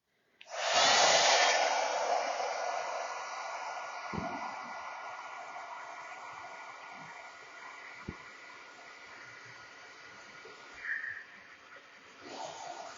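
An electric hair dryer switches on and blows a steady, close whooshing hiss to dry a handmade jewelry craft piece, running continuously with a few faint clicks and knocks beneath it.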